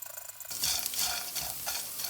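Edible gum (gond) frying in butter over medium heat while stirred, a close bright sizzle swelling as a spoon scrapes and moves the pieces steadily, no voices.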